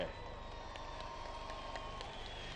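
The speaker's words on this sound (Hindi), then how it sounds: "तालियां बजाओ इस बात पे जोर से।" Applause from a political celebration rally crowd in Islamabad, a dense steady wash of clapping that fills the whole stretch at moderate distance, with faint crowd murmur underneath.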